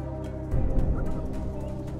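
A cartoon chicken in the Animal Super Squad video game lets out a short burst of gobbling clucks that starts abruptly and trails off under a steady game background.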